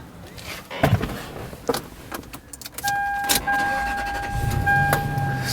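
A 2002 Toyota Sequoia engine cranks and catches, settling into a steady idle with a faint whine of cabin electronics, after some rustling and thumps inside the vehicle.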